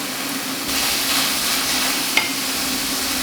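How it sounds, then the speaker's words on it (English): Beef frying in a pan for a ragu, a close steady sizzle that swells after a brief quieter start, with a single sharp pop partway through and no talk. "we're just going to let that cook for 5 minutes or so until it's slightly crispy on the outside, caramelised"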